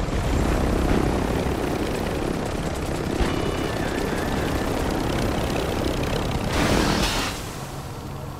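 Helicopter flying in the video game Call of Duty, a steady loud rotor and engine drone running throughout with a brief surge near the end, with no talking.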